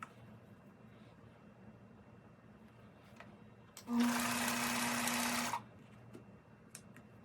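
A sewing machine runs in one steady burst of about a second and a half, stitching fabric strips together for a quilted flag, clear and close in an otherwise quiet room.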